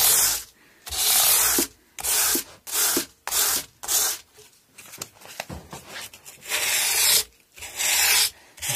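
A guitar fingerboard on an Antoria Rock Star is sanded by hand with strips of sandpaper, giving loud, coarse scratchy strokes in bursts separated by short pauses, with no talking.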